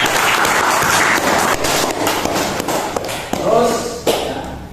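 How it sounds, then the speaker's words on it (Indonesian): A group breaks into applause, a dense clatter of clapping with some thumps and taps, loud at first and thinning out, while speech runs over it near the end. "Tepuk tangan Mas Ilham."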